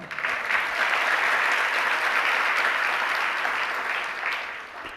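A large audience claps steadily through a Jain pravachan by Vidhya Sagar Ji Maharaj, a dense, even wash of applause that holds for several seconds and then starts to thin slightly near the end.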